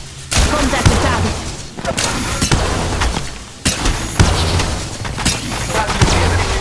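Loud, rapid bursts of automatic gunfire in Apex Legends Mobile come in repeated volleys, each a dense rattling salvo, separated by brief pauses.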